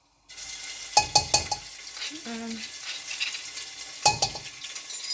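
Ground garlic and ginger fry in hot oil, a soft continuous sizzle broken by a few sharp spatters and stirring clatters near the start and again later.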